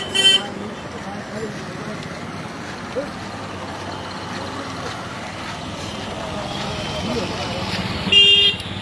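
Traffic jam on Kaliganj Road with vehicles blocked in place, a steady road rumble broken by short car horn toots near the start and again near the end, with voices faintly mixed in.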